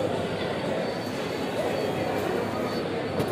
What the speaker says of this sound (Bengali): পৌঁছে গেছি শিয়ালদা স্টেশন,